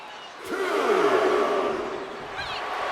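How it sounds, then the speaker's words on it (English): Wrestling crowd in the WWE 2K25 video game, a broad swelling roar of cheering fans rising and then holding steady in the arena background. "And Rocky is revving this crowd up."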